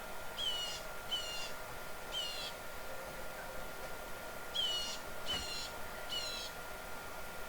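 Outdoor birdsong of quick, high trilled chirps in two clusters of three, separated by a pause, with one soft low thump among them over faint ambient hiss.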